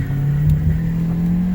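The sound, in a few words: 2014 Ford Escape EcoBoost 4-cylinder accelerating from a stop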